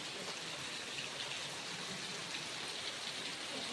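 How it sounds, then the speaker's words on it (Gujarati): Monsoon rain is falling with large drops, a dense, even hiss of rain on surfaces that stays steady and fairly faint throughout, with no voices. "બહુ વરસાદ અત્યારે ધીમો પડી ગયો"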